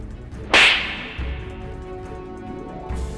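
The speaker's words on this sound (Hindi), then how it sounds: "नाजिया उसको जोरदार तमाचा जड़ देती है।" One loud, sharp slap sound effect cracks out and rings briefly over quiet background music. No voices can be heard.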